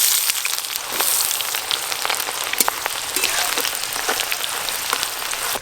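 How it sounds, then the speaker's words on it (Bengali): Sliced onions for birista fry in hot oil, giving a bright, steady sizzle packed with fine crackles and spits, close and loud throughout with no talking. "এবার বেরেস্তাটা ভেজে নেব।"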